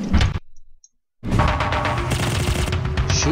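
Rapid gunfire from a Tomb Raider firefight: a short burst, a sudden gap of silence, then sustained loud automatic shooting with thuds and rattles close up.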